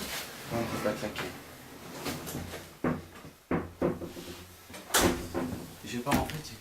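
A heavy old train door in a derelict train graveyard is pushed and slammed shut, several loud metallic thuds and scrapes standing out over nearby voices talking throughout.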